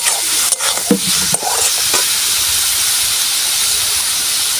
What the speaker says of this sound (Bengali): এই আলুগুলো দিয়ে দেবো, দিয়ে একটু নাড়াচাড়া করে জল দিয়ে দেবো।